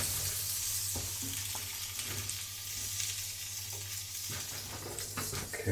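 Zucchini and garlic sizzle steadily in hot sesame oil in a pan, a continuous close frying hiss with occasional stirring scrapes and pops throughout.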